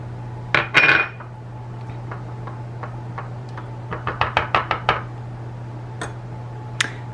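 Red wine vinegar dressing whisked in a bowl for a bacon flatbread and spinach dish: a burst of clinks at the start, then a quick run of sharp, evenly spaced metal-on-bowl taps, then two isolated clicks over a steady low hum.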